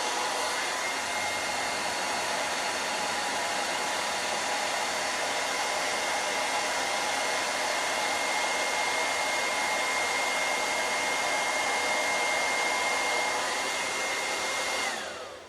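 A hair dryer blowing continuously at full power while styling hair with a vent brush, a loud steady whooshing roar that cuts off at the very end.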